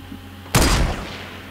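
A single sharp sniper-rifle shot rings out in the video game Fortnite, a loud sudden blast that trails off into a fading echo over about a second.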